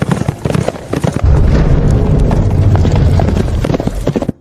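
Hooves of several horses clip-clop steadily and loudly, a dense run of overlapping hoofbeats that continues without a break and carries no speech.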